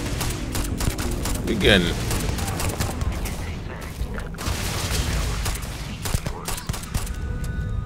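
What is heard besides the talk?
gunfire in the video game Starfield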